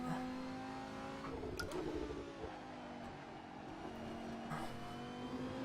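A race car engine in a racing simulator game hums and revs steadily on a track, with a brief burst of rougher noise midway and a short tire-like scrub near the end, even and moderately quiet throughout.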